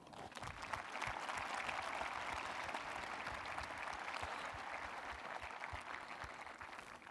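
A large graduation crowd at a high school ceremony gives a dense, sustained round of applause, a steady wash of many hands clapping that holds evenly throughout without speech.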